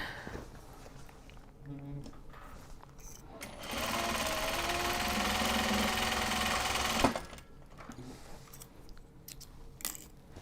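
Sewing machine stitching a Japanese fabric bag runs steadily for about three seconds in the middle, loud and close, with quieter handling noises and light talk before and after.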